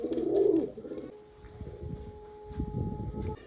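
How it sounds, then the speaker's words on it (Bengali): Pigeons coo close by, with a loud throaty burst at the start and softer repeated cooing afterward, alone and without talk. "এই তোমার পায়রাই খাইয়ে নিচ্ছি, তারপরে এই ব্যাগে রেডি হবে।"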